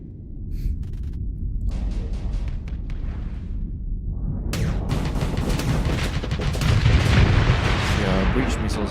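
Breach missiles firing in Starsector build into a heavy, rumbling roar of launches and blasts, quieter at first and then swelling into a dense, sustained barrage of booming impacts.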